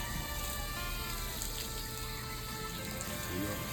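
A soft, steady hiss like light rain from a micro bubble machine in water runs continuously, faint and even, with a faint low hum underneath.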